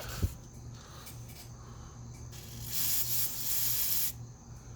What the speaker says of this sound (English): So I'm going to spray it with some PB Blaster